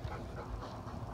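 Close, soft panting from a dog, mixed with faint whimpers, in a quiet indoor setting with no voices.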